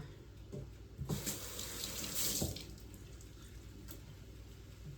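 Kitchen tap water runs steadily into a sink while tomatoes are rinsed under it, a close splashing flow that swells briefly at times and carries no talk.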